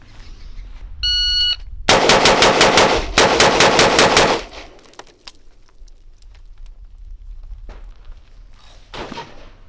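Carbine rifle shots fired at targets on a range, two rapid strings of sharp, loud shots a few seconds apart, preceded by a brief beep and followed by quieter background sounds.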